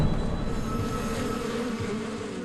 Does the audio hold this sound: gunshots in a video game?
no